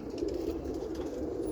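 Roller pigeons on a morning fly give low, soft cooing under a steady broadband wash of outdoor noise, continuous and fairly distant.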